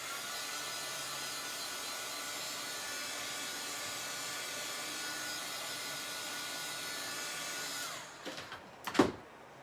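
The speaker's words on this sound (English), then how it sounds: "Let me just hit that with a dryer." A hair dryer blows steadily on chalk paste for about eight seconds, a loud, even broadband whoosh close by, then cuts off and is followed by a few brief handling knocks.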